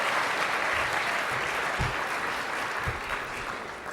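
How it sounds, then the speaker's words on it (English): An audience at a 2014 Salute to Teachers evening event in Santa Barbara applauds the MC with dense, steady clapping that stays loud throughout. It ends with a slight fade and no talking. "Please give a nice round of applause to our MC for the evening, Mr. Andrew Firestone."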